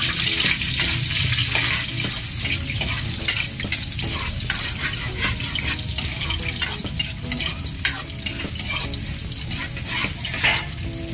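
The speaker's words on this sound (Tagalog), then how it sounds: "Gigisa na po natin yung sibuyas" Onions sautéing in a hot pan, a loud continuous sizzle with frequent scraping stirs and crackles across the whole stretch, no voices.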